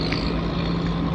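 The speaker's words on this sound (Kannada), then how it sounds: "ಸೊ ಒಂದು ದೋಣಿ ಹೋಯ್ತು ಈಗ." A fishing boat passes at Malpe harbour, its engine a steady, fairly loud drone with a low hum, set against broad waterside noise.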